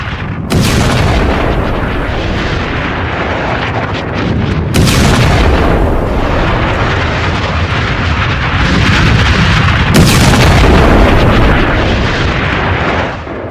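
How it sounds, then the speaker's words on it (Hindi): Huge, sustained explosive roars from a tunnel being blown up in Gaza rumble on and on, with fresh blasts breaking out in sharp surges every few seconds, very loud and close. "इजराइल ने जो टनल है, सुरंग, उसमें धमाका करके उसे उड़ा दिया है"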